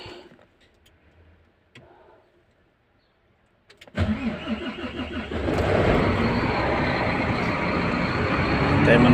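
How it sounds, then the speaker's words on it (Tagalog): A Renault truck engine starts up after a few seconds of near silence with faint handling sounds, then settles into a steady, loud idle that grows slightly fuller toward the end. "So, start natin yung truck natin."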